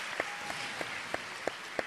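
Audience applause at the Miss Martinique 2024 pageant: a series of sharp, evenly spaced claps over a steady bed of hall noise, moderately loud and with no talk over it.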